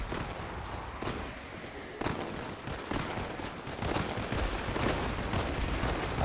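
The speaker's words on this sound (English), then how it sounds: "I hear a lot of gunfire" Scattered gunfire and explosions from the video game Warframe, dense and continuous over a busy mix of game noise, with sharper shots and impacts at irregular moments.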